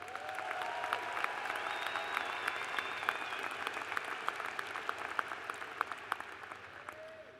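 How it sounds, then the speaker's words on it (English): A large audience at a college spring commencement ceremony applauds the graduates, sustained, reverberant clapping filling a big hall for over seven seconds, with a few sharper individual claps standing out near the end. "Again, a round of applause for all of our graduates."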